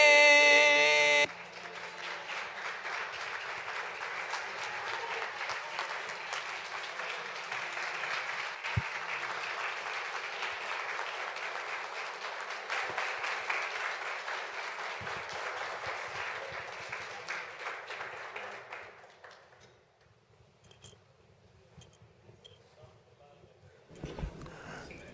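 Steady applause from the audience at a school board of education meeting after a student presentation, continuous clapping for most of the stretch before fading to quiet, with a brief voice at the start.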